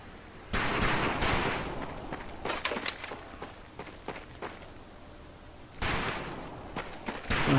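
Rifle fire at a boot camp range in Medal of Honor Pacific Assault, heard as sharp bursts of shots near the start and again toward the end, with quieter clatter and movement between.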